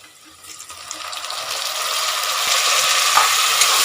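Chopped tomatoes go into a pan of browned onions for a plain kuska biryani, setting off a steady hiss and sizzle that grows louder and fuller over a few seconds.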